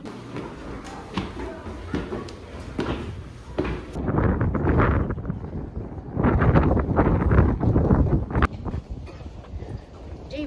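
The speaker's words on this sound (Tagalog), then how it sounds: "Mahangin." Strong wind buffets the microphone in gusty bursts outdoors in Japan, growing louder and rougher midway, with brief voices and footsteps mixed in.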